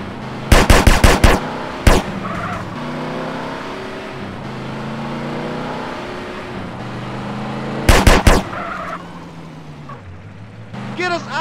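Rapid bursts of automatic gunfire erupt twice during a drive-by in GTA San Andreas with a Mazda RX-8 car mod, while a car engine hums steadily between the volleys.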